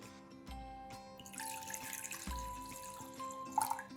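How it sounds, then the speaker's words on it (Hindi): Water being poured into a saucepan to boil for tea, a soft running and trickling stream of moderate length, fairly quiet and close, with faint clinks and background music alongside. "मैं एक सॉस पैन में पानी उबलने के लिए रख देता हूं पहले"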